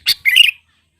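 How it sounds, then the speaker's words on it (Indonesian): A sooty-headed bulbul (kutilang) call used as a bird lure: two loud, close, bright chirping phrases, a short note followed by a longer warbling burst, then silence. "Pikat burung kutilang kejora,"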